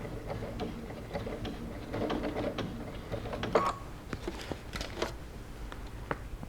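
A sewing machine stitching a stiff bucket hat seam at half an inch, its needle ticking in quick irregular bursts with short pauses, fairly quiet and close, no talking.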